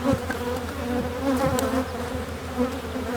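Honey bees buzz densely and continuously around an open hive during an inspection, a close, steady drone with individual bees flitting past the microphone.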